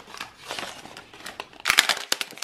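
A plastic bag crinkles and rustles as a vacuum-sealed, taped-up package from Walmart is pulled open, soft at first and then building into louder, sharp crackling bursts close by.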